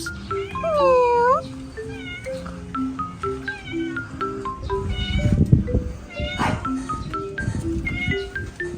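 A cat gives one loud, drawn-out meow nearby, followed by shorter, fainter mews and some household rustling.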